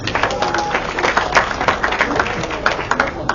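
A school assembly audience at Southern High School in Guam applauds the Attorney General: dense, steady clapping from a crowd filling the room, sustained at an even level throughout.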